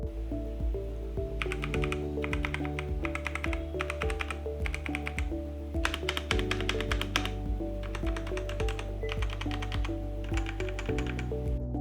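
Fingers type on a Kreo Hive budget gaming mechanical keyboard with brown switches, producing rapid bursts of close, crisp clacks separated by short pauses, alone and fairly quiet.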